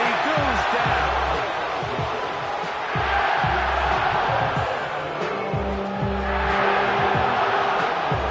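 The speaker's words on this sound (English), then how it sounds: "Crowd into it now as we get to 3rd down." Video game football stadium crowd roaring loudly before a third down, a dense sustained cheer swelling and falling under an announcer's voice.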